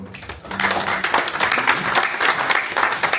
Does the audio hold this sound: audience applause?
yes